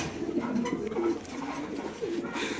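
White racer pigeons cooing softly in cages at a market, several low repeated coos close by over a busy murmuring background.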